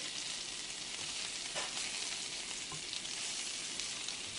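Salisbury steaks fry in a large pan, a steady broadband sizzle with faint crackles and pops running throughout, fairly close and continuous, with no voices.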